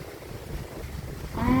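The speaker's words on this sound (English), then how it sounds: "It's a huge gust." A strong wind gust during Hurricane Lee, a loud buffeting rush of wind against the microphone that builds and swells toward the end, close and turbulent.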